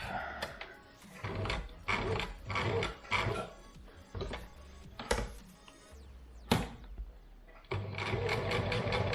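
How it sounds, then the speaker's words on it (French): Sewing machine stitching a seam to close a small pocket on a double-layer fabric face mask, running in steady bursts of rapid mechanical clatter with brief pauses between runs. "je viens fermer la petite poche que j'ai fait pour ma barre en fer"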